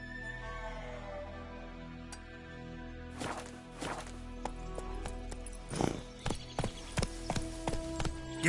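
A horse's hooves in The Witcher 3 clop on the ground, starting from quiet ambience and building into a quickening run of loud, evenly spaced hoofbeats close by, with faint game sounds behind.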